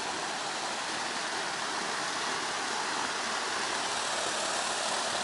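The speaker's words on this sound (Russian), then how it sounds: "Из нее выливается вода." Water pours steadily from a fountain on the Sirius embankment near the Olympic Park, a continuous soft splashing rush with no pauses and no voices.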